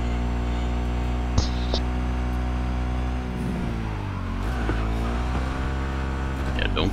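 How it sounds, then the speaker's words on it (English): A motorcycle engine in the Cyberpunk 2077 video game labors up a slope, a steady droning hum whose pitch sags and wavers midway as it bogs down, with a few faint clicks and game sounds over it. "It sounds like this motorcycle's getting bogged down on this slope."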